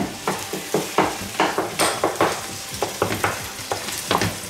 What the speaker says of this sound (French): Ah, je vais bien mélanger.